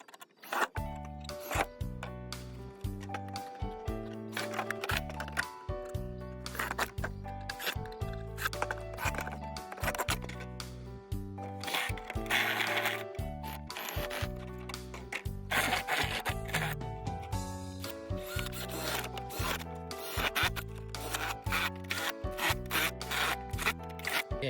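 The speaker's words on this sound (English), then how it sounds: "I start to drill a hole for hanging" An electric drill bores holes in a plastic bottle, its motor whirring and buzzing close up in repeated bursts, with rhythmic grinding pulses and brief pauses between holes throughout.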